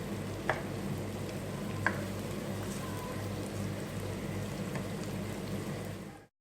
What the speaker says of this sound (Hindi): और इसको अच्छे से फ्राई करेंगे। लाइट गोल्डन ब्राउन होने तक आपने प्याज को पकाना है।